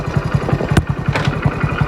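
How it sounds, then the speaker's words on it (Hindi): A motorcycle engine runs nearby as the bike begins to move off, a loud, even, rapidly pulsing putter with one short sharp click partway through. "अब चलाना शुरू करो बाइक को आगे,"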